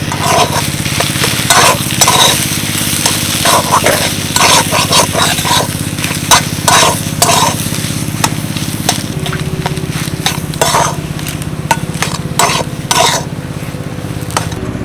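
Repeated scraping strokes of a spatula stirring in a wok, with a light sizzle over a steady low mechanical hum.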